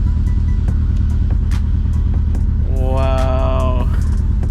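A 2G DSM Mitsubishi Eclipse engine idles steadily after its first start in a long time, a close, even rumble with a brief rising whine partway through.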